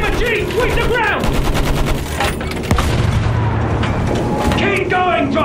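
Machine gun fire in the Battlefield 1 single-player campaign, with rapid sustained bursts and booms running continuously throughout, loud and close, beneath shouted in-game voices.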